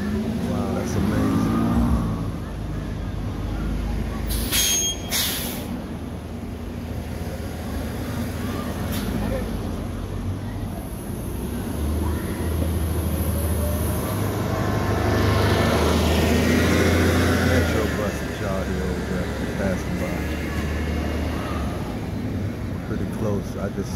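City street traffic in Washington DC during a total solar eclipse, with car engines rumbling and passing at moderate distance in a continuous wash of noise, rising in places as vehicles accelerate, while people talk over it.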